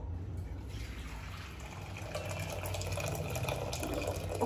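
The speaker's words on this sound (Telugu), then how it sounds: "గ్యాస్ ఆన్ చేసి గ్యాస్ మీద పెట్టుకొని హాట్ వాటర్ వేడి వేడి నీళ్ళు ఇందులో పోసేసి" Hot water pours steadily into a pot being seasoned on a gas stove, a continuous close splashing rush that runs on without a break.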